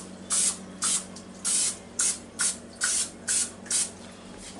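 Eight short, evenly spaced bursts of sprayed oil hissing onto an air fryer pan to give it a light coat, each puff close and crisp with brief pauses between, no speech.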